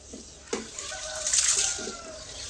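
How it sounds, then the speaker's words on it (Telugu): Water is poured over ration rice in a kitchen vessel to wash it, giving a brief splashing pour that swells midway and then settles into a soft trickle. "నీళ్ళు ఇక్కడ పోస్తున్నా ఇప్పుడు ఈ బియ్యం నీళ్ళు పోసాం కదా"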